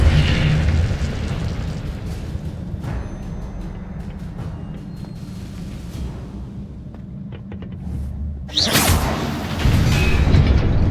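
A fire spell cast in a Harry Potter video game bursts out suddenly as a loud whooshing flare, rising over a steady low rumble of game ambience and then settling into a sustained roar.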